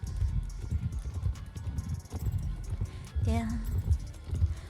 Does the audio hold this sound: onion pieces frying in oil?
no